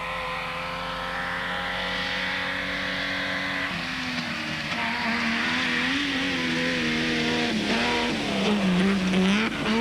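Nissan Safari rally car racing across grassy hills at the 1988 Swazi Spa 500, its engine droning steadily and rising through revs, with tire squeal near the end, loud and continuous without speech.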